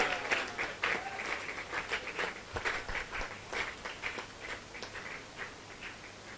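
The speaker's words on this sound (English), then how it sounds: "Coco Terrain, give them a round of applause." Faint, distant applause from an audience at a university innovation demo day, a patter of clapping hands that keeps going without a break.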